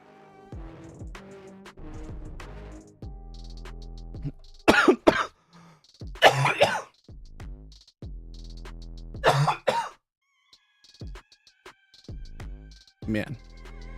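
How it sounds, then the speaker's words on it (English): A man coughs several times in short, harsh bursts that come close to the microphone, spread over the stretch with pauses between, against steady background music. "I'm not doing so well this morning with the coughing thing."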